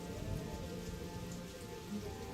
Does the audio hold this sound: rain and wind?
yes